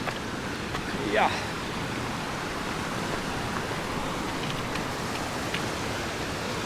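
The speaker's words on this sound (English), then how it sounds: "So now we will cross the creek." A mountain creek on the high alpine Wonderland Trail between Summerland and Panhandle Gap rushes in a steady, broad wash of flowing water, constant and fairly close, with a brief faint voice near the start.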